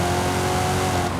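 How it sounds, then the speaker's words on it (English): A Toyota Supra engine racing in Forza Horizon 5, a loud, sustained high-revving drone with steady harmonic whine, continuous and close with no talk. "I'm driving my Supra"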